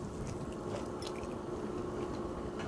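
A rich, moist Knock Ya Naked brownie is bitten and chewed up close, giving soft, squishy mastication sounds over a faint steady background.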